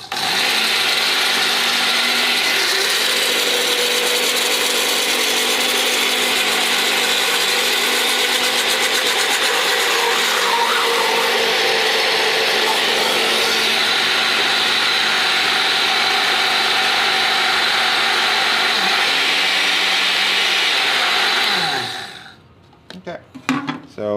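The steam wand of an espresso machine blasts into a runny hollandaise sauce to finish it, making a loud, continuous rushing hiss with faint gurgling that lasts over twenty seconds before cutting off abruptly, followed by a few small clicks.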